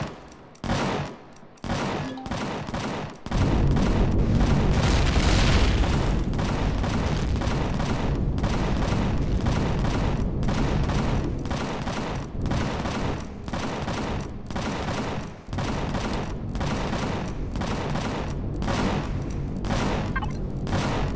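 Turrets shooting in the Empyrion Galactic Survival video game, a loud, sustained barrage of rapid gunfire with repeated bursts and short gaps, dense and continuous for about twenty seconds with no talking.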